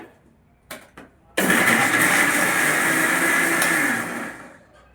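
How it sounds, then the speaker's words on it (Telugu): A kitchen mixer grinder blends fried gongura chutney ingredients with coarse salt. A couple of light taps come first, then the motor kicks in with a loud, steady whirring roar that runs for about two and a half seconds before winding down. "మిక్సీ చూపిస్తాను నేను"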